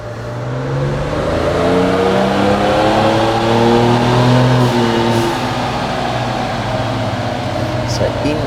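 A turbocharged car engine revs during a run, a loud continuous drone with rising and falling harmonic tones, holding strong through the middle before easing slightly, with a fan-like hiss beneath.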